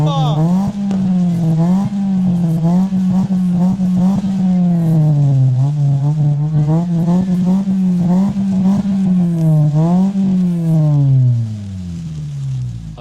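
A Mitsubishi Lancer engine revs repeatedly through its aftermarket muffler, the loud rising and falling drone swelling in waves close by before settling toward idle at the end.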